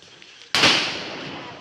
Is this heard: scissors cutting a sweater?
no